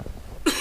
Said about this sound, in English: Please excuse my cold and me coughing every few minutes.